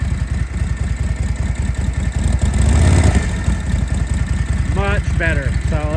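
A 1949 Harley-Davidson WL flathead engine idles low and loping, with an even, close, throbbing pulse throughout and a brief voice near the end.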